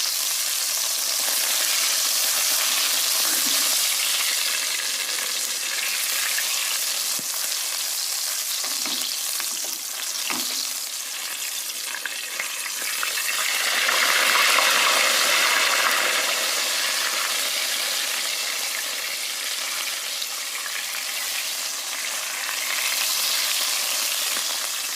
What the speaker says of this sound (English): I'm going to sear it hot and fast using charcoal and wood fire